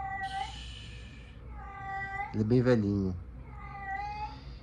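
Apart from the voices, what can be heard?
cat meowing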